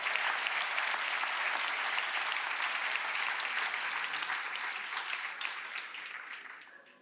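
Sustained audience applause, dense and steady clapping filling the room, holding strong before tapering off toward the end.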